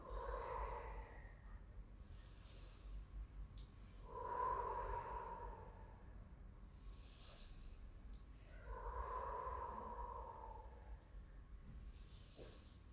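Slow breaths during a gentle gymnastics exercise, three or four long airy inhale-exhale swells spaced a few seconds apart, quiet and close.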